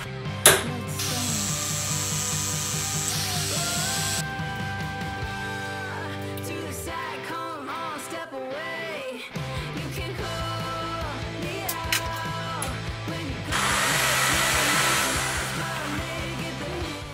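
A power drill bores holes in metal pulleys and threads are tapped, with a whining motor that rises and falls in pitch, stops and restarts, plus ratcheting, grinding bursts close by.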